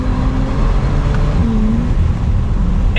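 A Bentley Continental GTC convertible pulls hard in manual second gear, its engine a loud, steady droning roar heard from inside the car.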